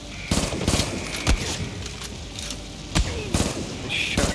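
Shotgun blasts in Far Cry New Dawn ring out as several sharp, loud reports spaced a second or more apart, set against steady game background noise and mechanical clicks.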